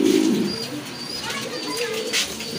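A pair of large Pouter pigeons coos with one deep, throaty burst up front, then fainter murmuring against steady background noise.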